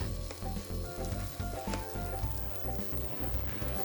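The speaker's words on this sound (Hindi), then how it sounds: "अब इसको भूनेंगे कब तक, जब तक कि अदरक लहसुन पेस्ट का कच्चापन ना मर जाए।" Ginger garlic paste fries in a pan, a dense continuous sizzle with crackling bursts and a low steady hum underneath, close and even throughout.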